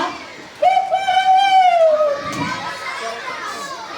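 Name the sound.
rooster crowing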